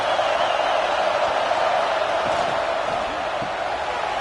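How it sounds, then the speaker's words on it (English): Football stadium crowd roaring during a Nebraska vs UCLA game on third down, a dense, loud continuous wall of cheering that holds steady throughout. "Decibels rising as the crowd gets behind this defense on third down."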